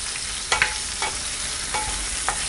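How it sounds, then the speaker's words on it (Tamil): Urad dal and chana dal sauté in a pan for mint chutney, with a steady sizzle of frying. A few scraping stirs of the spoon sound close by over the frying. "இன்னும் ஒரு 2 நிமிஷம் நல்லா வதங்கட்டும்"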